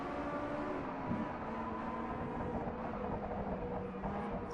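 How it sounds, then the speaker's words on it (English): Racing cars from the 1965 Le Mans 24 Hours, including Ferraris and Fords, pass the stands at the Circuit de la Sarthe in a steady, somewhat distant engine drone with shifting pitch. There is no talk. "The first cars go past the stands"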